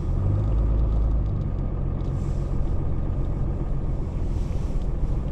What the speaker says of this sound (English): The way he's spinning, I bet you he doesn't even have winter tires on.